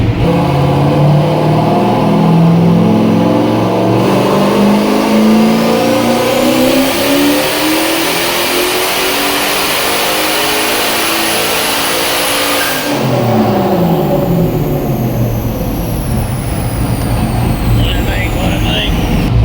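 Boosted Mazda Miata running 30 psi of boost plus a 200-shot of nitrous, revving hard on a dyno: a loud, sustained engine pull climbing steadily in pitch for about thirteen seconds, then dropping away as it winds down, with voices faintly underneath.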